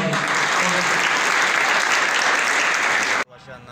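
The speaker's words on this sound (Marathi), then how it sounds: "आपल्या लिडरसाठी एकदा जोरात टाळ्या वाजवा." A crowd at a Bharatiya Janata Yuva Morcha workshop in Dhule claps loudly and continuously for its leader, the dense applause stopping sharply after about three seconds, followed by faint murmuring.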